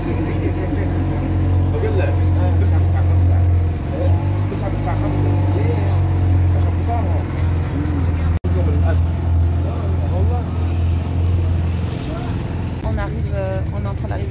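Boat engine drones steadily while crossing to the other bank of a river in Egypt, a loud low hum running under constant nearby talk, with a brief dropout midway.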